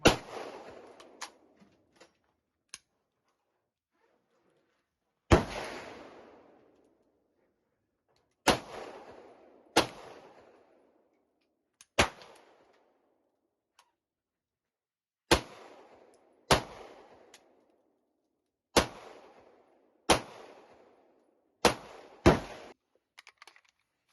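Sharp, loud pistol shots from a French P1 Walther P38 at an outdoor gun range, fired singly at irregular intervals, each crack followed by a short echoing decay with silence between.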